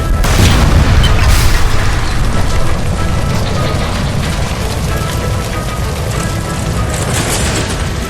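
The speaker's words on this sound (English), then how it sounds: "Shoot the gas line, Cole, we're out of here" Gas line explosion in the video game L.A. Noire, a heavy boom at the start followed by a sustained roaring rumble of fire and debris that stays loud throughout.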